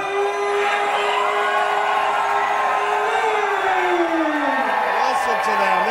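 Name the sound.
fight crowd cheering for the Taiwanese fighter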